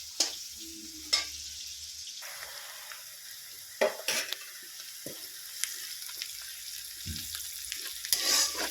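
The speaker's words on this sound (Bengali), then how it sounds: "দিয়ে হালকা লাল করে ভেজে নেব" Sliced onions fry in a pan for a fish curry, a steady close sizzle running throughout with a few louder spatters and stirring knocks, no voices.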